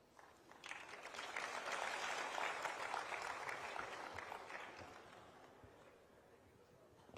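Sustained applause from a large audience welcoming the Chief Minister at a city development cheque distribution event in Ahmedabad, swelling quickly to a dense steady roar and then slowly tapering.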